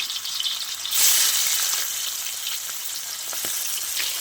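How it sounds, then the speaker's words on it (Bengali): Shrimp frying in white cooking oil in a wok, a loud, steady crackling sizzle that swells sharply about a second in, then settles into a continuous bright hiss with scattered pops and no voices. "এরপরে আমি আমার চিংড়ি মাছগুলোকে ভেজে তুলে রাখবো।"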